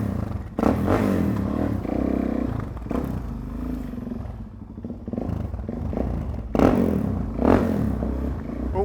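Supermoto motorcycle engine held at full throttle, a loud, sustained close-up roar with rising surges near the start and again toward the end, no talking.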